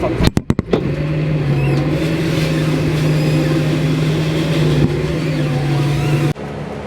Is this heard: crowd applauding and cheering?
no